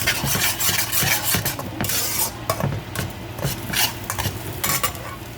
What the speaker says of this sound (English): Scramble those up real quick.